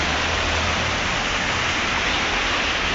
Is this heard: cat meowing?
no